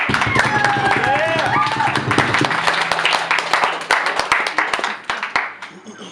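A live-show crowd applauds a band in a Reno venue, loud clapping and cheering with a whistle early on, thinning into scattered individual claps toward the end.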